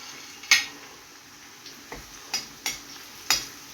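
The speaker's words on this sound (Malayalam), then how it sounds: "അപ്പോൾ നമുക്ക് കറിവേപ്പില ഇട്ടുവിടാം." Wilted curry leaves dropped into hot oil for mango pickle give several sharp, close crackling pops spread over a steady faint sizzle, with no voices.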